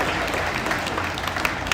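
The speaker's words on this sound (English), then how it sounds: "let's give him a great big round of applause for helping out today" An audience at a live show during a Disney World Animal Kingdom morning gives dense, continuous applause, steady clapping throughout with no talk over it.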